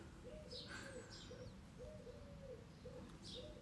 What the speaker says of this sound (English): There's a pigeon having a go.